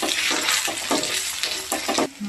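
Chopped onion fries in a pan with salt and ginger garlic paste, giving a steady close sizzle broken by several short scraping stirs, with no voices.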